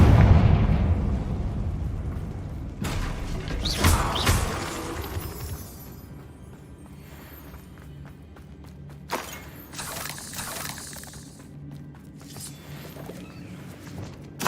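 A Confringo fire spell bursts in the Hogwarts Legacy video game, a loud blast with crackling debris in the opening seconds, followed by further sharp impacts and rumbling combat effects over a quieter game soundscape.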